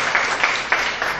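Audience applause closing a constitutional court debate round between university teams, a steady dense wash of clapping lasting the whole moment with slight swells, no voices over it.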